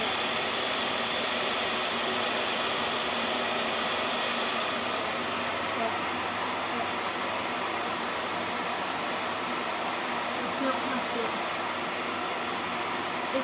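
A VAX Air Stretch Pet Max upright vacuum cleaner runs continuously nearby, producing a loud, steady high-pitched whine and airy roar with little change across the whole stretch.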